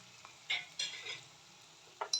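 Poha pulihora ingredients fried and stirred in a pan until browned: a soft sizzle with scraping stir strokes and light utensil clinks in several short bursts, close and quiet.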